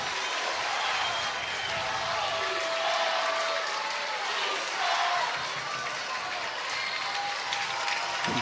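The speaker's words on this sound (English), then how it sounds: "Both sides in a sold-out stadium here where there's not a seat, up on their feet cheering for their respective sides" Sold-out stadium crowd at a Little League Baseball World Series game on a drizzly night, a steady wall of cheering and clapping that holds loud and even throughout, with a voice speaking over it.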